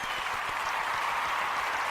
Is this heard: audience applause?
yes